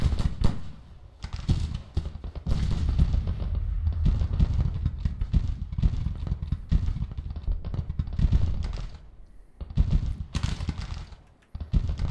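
Dense, sustained crackle of musket volleys and artillery from a Grand Tactician: The Civil War battle, with many sharp overlapping reports at a steady clamor for most of the span and a brief lull near the end.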